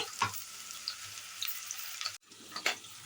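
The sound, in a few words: onions frying in hot oil in pressure cooker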